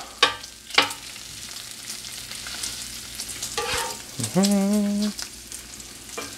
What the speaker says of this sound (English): Fry, my beautiful bacon, fry.